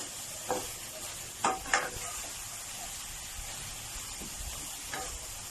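Vegetables with soy sauce and pepper stir-fry in a pan, a soft steady sizzle broken by a few sharp spatula scrapes and clatters, fairly quiet and close, with no voices.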